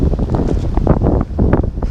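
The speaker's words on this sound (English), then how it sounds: "Probably hear the wind." Strong wind gusting across a mountain trail on the Appalachian Approach Trail near Amicalola Falls, a loud, steady roar of buffeting microphone noise that swells and dips with no voices.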